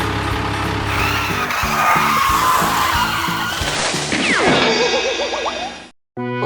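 A cartoon truck brakes hard and skids, a loud sustained screech of tires with rattling, ending in a swooping whistle and a short drop to silence, no voices.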